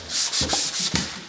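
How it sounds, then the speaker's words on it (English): Sandpaper roughs up the surface of a stair riser in several short back-and-forth strokes, a close, dry, hissing rub with brief pauses between passes. "we're just gonna take a piece of sandpaper, just rough up the surface a little bit"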